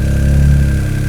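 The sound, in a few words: Toyota GR Yaris engine starting and idling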